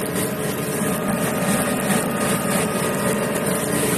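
A New Holland T6.160 tractor pulls a five-furrow plough uphill across a field, its engine a loud, steady, unbroken drone with no talking.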